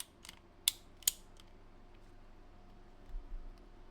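Ratcheting pruning shears clicking as they work through a tree branch, a few soft clicks followed by two sharp, close ratchet snaps, then quiet with a faint creak and low rustle at the end.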